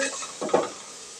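A spoon stirring egg biryani masala in a pan, one short scraping swirl over a soft hiss of cooking, close and brief.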